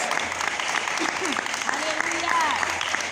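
Sustained applause from a church congregation fills the space, dense and steady, with voices calling out faintly over the clapping.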